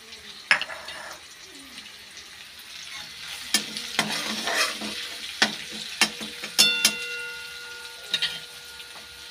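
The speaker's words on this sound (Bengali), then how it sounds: "একটু ভেজে নিলাম টমেটোটা মশলার ভিতরে।" Tomato frying in spices in a pan, with a soft continuous sizzle punctuated by repeated sharp scraping and clinking stirring strokes, close up and with no talking.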